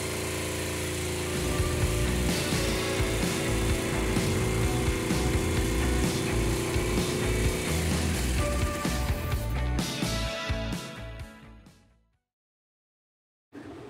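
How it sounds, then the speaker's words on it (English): A jigsaw cuts a sink opening in a countertop, its blade jumping off the line, producing a loud, steady buzzing rasp for about eleven seconds before winding down and falling silent. "Using the jigsaw to start the hole gave us some trouble and was going to damage the counters."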